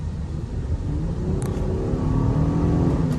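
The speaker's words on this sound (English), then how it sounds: "Yep, that VTEC just took off." A family car with a VTEC engine accelerating under full throttle, a steady mid-pitched engine rumble rising in pitch as it revs, heard from inside the cabin.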